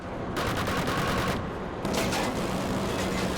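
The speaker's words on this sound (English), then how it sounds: "There's also turrets you can lay down, which is basically like an automated machine gun." Automated turret machine gun in the PS4 game Killzone Shadow Fall firing in sustained rapid bursts, a dense rattling stream of shots with a short pause between volleys, loud and close, no speech.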